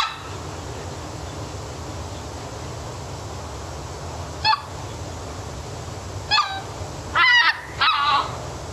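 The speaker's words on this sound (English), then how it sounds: "This is the greater white fronted goose, or kind of more colloquially, it's referred to as the speckled belly." Greater white-fronted goose, the speckled belly, giving a few short honking calls, one isolated then a closer burst of several in quick succession toward the end, over a steady low background hum.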